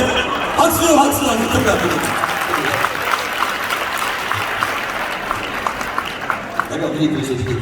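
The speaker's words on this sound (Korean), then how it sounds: "박수요, 박수." A church congregation at a youth revival service claps together, a dense, steady, close wash of applause filling the whole clip, with voices mixed in underneath.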